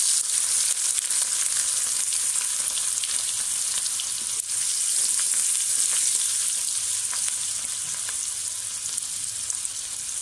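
Asafoetida, curry leaves and crushed garlic sizzle in hot oil with cumin in a pan for a jackfruit vegetable dish, a bright, steady crackling fry with occasional sharper pops, close and constant.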